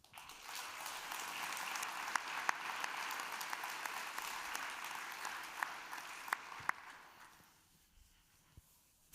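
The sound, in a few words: audience applause at conference panel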